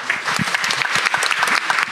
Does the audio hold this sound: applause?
yes